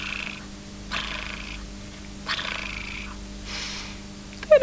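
A soft, steady purr rising and falling in slow rhythmic waves, close by and alone, ending with a brief sharper squeak.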